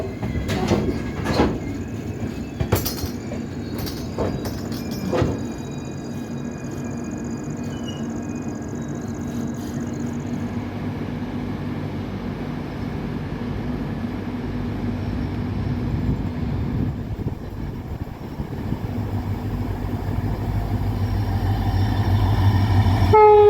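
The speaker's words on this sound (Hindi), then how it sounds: "Vasco Hazrat Nizamuddin Goa express." A Vasco–Hazrat Nizamuddin Goa Express passes near Desur, its loud, steady rumble of wheels on rail building toward the end, with horn blasts and clanks in the first few seconds.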